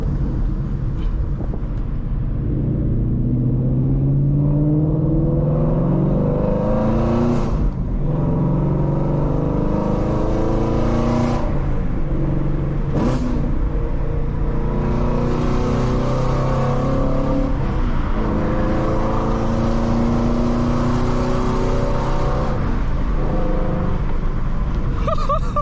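A loud, raspy Shelby GT350 Mustang with long-tube headers and no catalytic converters revs and accelerates repeatedly through gears, rising pitch sweeps broken by short shifts, heard from inside the car.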